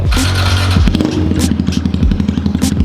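A small pit bike engine with an FMF exhaust revs hard up close, its raspy exhaust barking and crackling through quick throttle blips and falling back.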